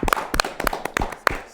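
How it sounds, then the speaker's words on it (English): Scattered sharp claps ring out in irregular bursts, a brief round of applause from a small group with no voices over it. "Round of applause for Mary."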